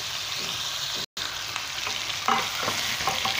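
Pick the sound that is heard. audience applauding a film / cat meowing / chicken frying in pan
chicken frying in pan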